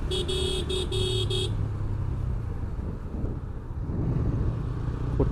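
A motorbike ridden along a winding hilly road between Sajek and Khagrachari, with a steady engine and wind rumble throughout and a short burst of repeated horn toots near the start.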